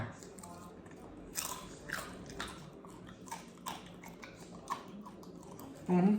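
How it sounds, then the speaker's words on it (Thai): Several crisp, crunchy bites and chewing sounds of crispy pork belly, close up, spaced irregularly with faint background noise. "หมูสามชั้น กรอบแบบกรุบๆนะคะ ฟังเสียงค่ะ"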